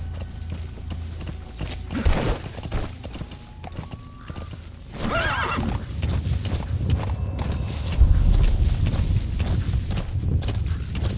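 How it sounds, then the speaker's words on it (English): Horse hooves clip-clopping in the Metal Gear Solid V open-world wilderness, a steady walking rhythm close by with a brief neigh, set over a continuous low ambient game soundtrack. "Use your horse."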